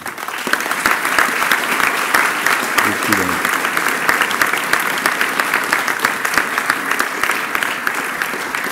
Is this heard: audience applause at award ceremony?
yes